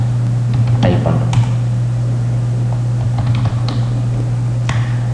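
Typing on a computer keyboard while entering a company address in Tally ERP 9 accounting software, with a few sharp key taps scattered over a steady electrical hum.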